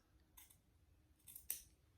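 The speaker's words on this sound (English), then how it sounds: "cut with my scissors" Two quick snips of scissors cutting through paper, crisp and close, in an otherwise quiet room.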